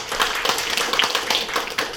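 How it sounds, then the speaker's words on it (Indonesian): An indoor audience claps for the crowd at a company education event at a head office, a dense, steady patter of many hands continuing throughout without speech. "Tepuk tangan buat kalian semua."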